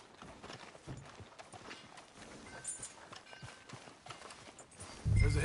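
Horse hooves clip-clop at a steady walking pace in the Red Dead Redemption 2 video game, fairly quiet and even, with a louder thump near the end.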